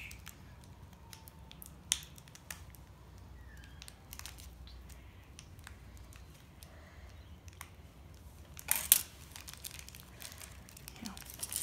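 Scissors cut the edge of a plastic Beyblade booster package, giving a few sharp, close snips and crinkles spread across quiet room tone, with a louder cluster of cutting and rustling near the end.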